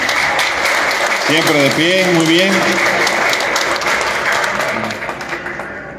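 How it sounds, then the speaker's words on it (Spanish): A crowd at a municipal party committee swearing-in in Huauchinango claps in sustained, dense applause that tapers off toward the end, while someone speaks over it. "un fuerte aplauso"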